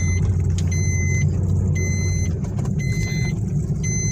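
A Maruti Swift Dzire petrol car is driven on a test drive, its engine and road noise a steady close rumble, with repeated short electronic beeps sounding at regular intervals.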